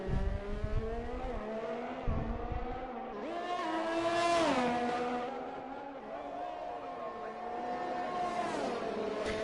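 F1 car in the F1 2021 video game at Baku, engine note climbing steadily through gears on the straight to around 200 mph, then a sharp downshift under braking for turn 3, heard clearly under commentary.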